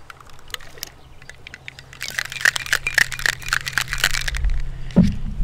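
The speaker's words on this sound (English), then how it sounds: "And we'll give that a shaky shake." A cocktail of pineapple and banana liqueur is shaken with ice at a Hawaiian barbecue restaurant in Spokane, Washington: light rattles at first, then a few seconds of loud, dense, rapid clattering close by.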